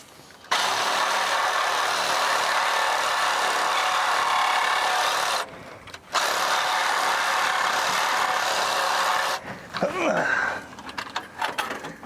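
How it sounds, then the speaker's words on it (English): A Sawzall reciprocating saw cuts through a pipe on an abandoned 1947 International KB3 truck, a loud, steady buzzing rasp that pauses once briefly, then ends as clattering handling noises and a voice follow. "Let me get that Sawzall and cut this pipe off so we can lift it"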